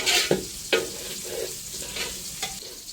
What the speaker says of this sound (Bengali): চালটা আমার ভাজা হয়ে গেছে।